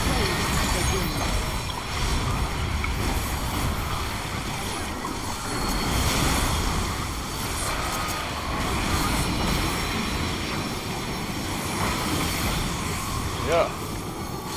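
Waves and wind in Final Fantasy XIV, a continuous roaring wash of surf and rushing air that stays loud and steady throughout with little change.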